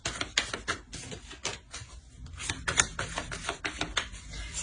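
Tarot cards shuffled and laid down during a reading, a dense run of quick crisp slaps and riffling clicks, close and fairly loud, with no talk.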